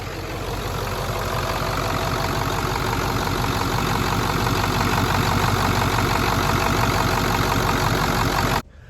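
A heavy 7.3 diesel engine in a 1994-97 Ford F250 idles steadily and loudly with a constant low rumble and knocking, then cuts off abruptly near the end.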